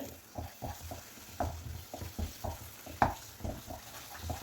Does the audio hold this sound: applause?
no